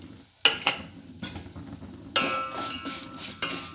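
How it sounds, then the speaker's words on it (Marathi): Vermicelli and dry fruits roasting in a pan over a low flame for shevai kheer, with a soft sizzle and bursts of stirring and scraping against the metal, close and moderately loud, with no talk. "आणि बारीक गॅसवरती हे सगळं छान असं भाजून घ्यायचं"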